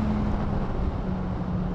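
A 2018 Kawasaki Z1000SX motorcycle engine runs at about 7000 rpm, a loud, steady close-up drone mixed with heavy wind rush while riding.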